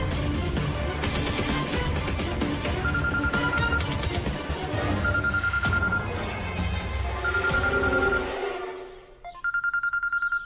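A phone rings in a Hindi TV drama scene: a loud electronic ringtone repeats in regular bursts over a busy musical background, then switches to a clearer, sparser tone pattern at the end.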